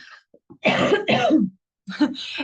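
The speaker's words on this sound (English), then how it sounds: "cough again" Several coughs come in quick succession, close and harsh, with a brief throat-clearing quality and a pause before the last pair.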